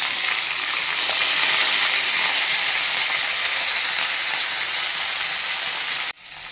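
Green chilies, onion and curry leaves sizzle loudly and steadily in a frying pan for jowar rava upma, a constant bright hiss that cuts off abruptly near the end.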